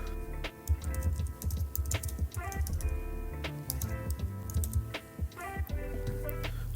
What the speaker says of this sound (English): Let me type this out.